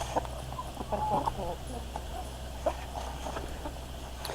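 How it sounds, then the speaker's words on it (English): Bronze heritage turkeys cluck and chirp in short bursts nearby over a steady background hum. "These are bronze turkeys, and they are heritage birds."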